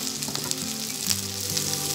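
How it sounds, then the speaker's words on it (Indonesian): Chillies, tomato and shallots stir-fry in a pan for spicy eggplant oseng, a steady close sizzle with soft scraping stirs running throughout, no voices. "Kita tumis lagi sampai semuanya matang."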